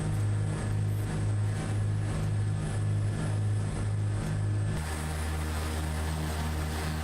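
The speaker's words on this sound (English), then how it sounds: "I thought something was wrong with my plane, but it's actually your engine that I'm hearing." Steady propeller-engine drone from a Cessna C337H Skymaster II twin-engine aircraft in Microsoft Flight Simulator 2024, a loud continuous hum with a pulsing beat that shifts to a lower, smoother tone near the end; no talking.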